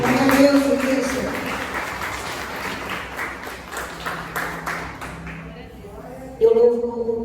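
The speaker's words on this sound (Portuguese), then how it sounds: "As palmas louvem ao Senhor." A church congregation at a Wednesday worship service claps steadily throughout, with voices and a sustained musical tone mixed in, before a sharper burst near the end.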